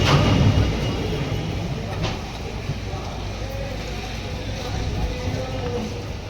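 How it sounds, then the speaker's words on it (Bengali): The Chambal Express rolls into Gwalior station with a low, steady rumble and rattle heard from inside the train, moderately loud and continuous, with muffled chatter underneath. "পঁয়তাল্লিশ মিনিট লেট করে আমাদের ট্রেন গোয়ালিয়রে ঢুকছে"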